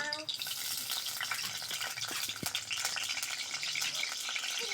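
Prawns frying in oil in a wok with potato and green chillies, a steady soft sizzle and crackle with faint stirring scrapes, fairly quiet and continuous throughout.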